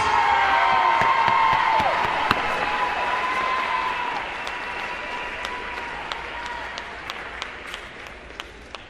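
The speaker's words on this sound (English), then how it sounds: "let's give a big round of applause for the 2019 Class 5A All-Tournament team" A crowd at the 2019 Class 5A volleyball championship applauds the All-Tournament team, loud sustained clapping and cheering that slowly thins out, with a few distinct claps standing out near the end.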